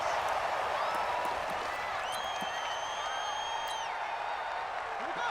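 Stadium crowd cheering in a Madden NFL 20 football game between the Oakland Raiders and the Atlanta Falcons, a steady, dense roar with faint whistle-like tones rising above it, holding at an even level throughout.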